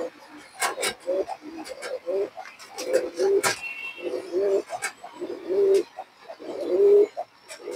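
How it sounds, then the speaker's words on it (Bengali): A silver pigeon and other pigeons coo repeatedly in soft, low, throaty calls close by, with a few sharp clicks and rustles between them. "এটা সিলভার কবুতর দর্শক"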